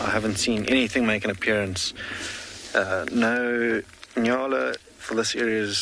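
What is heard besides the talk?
No everyday noises stand out.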